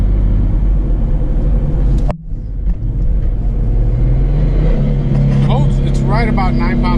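Twin turbo V6 car accelerating under about nine pounds of boost, a loud close engine drone heard from inside, briefly dipping at a gear change and then climbing in pitch with rising whine.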